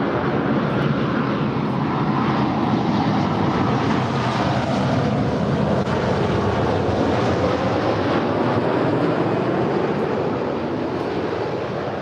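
United flight 1499 from Newark landing on runway 24 right at LAX: a broad, sustained jet roar that holds steady and loud for twelve seconds, with wind rushing over the microphone.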